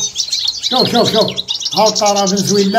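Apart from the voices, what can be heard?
male Venezuelan finch and female canary singing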